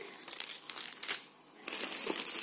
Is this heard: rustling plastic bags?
yes